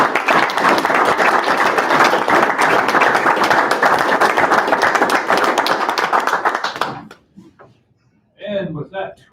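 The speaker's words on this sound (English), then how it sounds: "We clap." An audience at a park district board meeting claps together for about seven seconds, dense and steady, then stops and a voice begins speaking.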